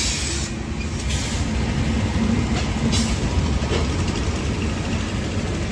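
Train 12861 Visakhapatnam to Mahabubnagar Superfast Express rolls along after leaving Vijayawada at night, a steady, loud rumble of wheels and carriages with a low engine drone throughout.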